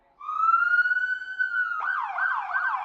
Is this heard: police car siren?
yes